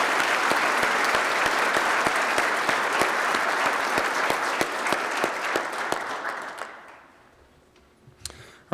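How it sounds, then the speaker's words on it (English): An audience at a school district awards tribute applauds its recipients, a dense, sustained burst of clapping that fills the room before tapering off into quiet, with a few last claps at the end. "Please give a round of applause for these Appleseed recipients."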